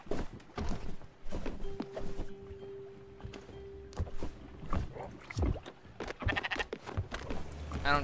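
Sheep bleat in the video game Spiritfarer, short game-sound calls mixed with soft footstep-like taps and light effects, heard at moderate volume with no talk over them.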